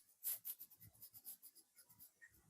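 A pen scratches across paper in quick, close strokes, writing out a word in a grammar lesson, soft and steady with short pauses between letters.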